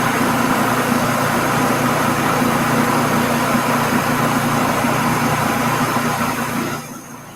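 A food processor blends dates with nut butter, a steady loud motor whir running almost the whole time before cutting off near the end.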